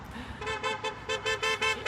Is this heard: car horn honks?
yes